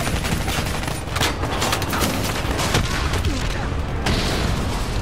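An APC being blown up in Black Ops 3, loud, dense bursts of gunfire and explosions that roll on without a break through a chaotic battle, with voices under the noise.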